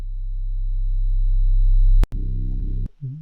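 A subby 808-style bass layer from a music plugin swells as a deep, steady sine tone for about two seconds, then cuts to a brief burst of richer, harmonic bass notes that stop abruptly, loud and alone.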